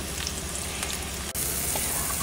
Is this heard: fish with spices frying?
yes